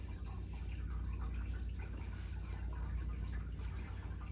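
Water dripping and trickling off the sphere head of a Dorset sphere fountain, a faint continuous patter of small splashes with a low steady pump hum beneath, no voices.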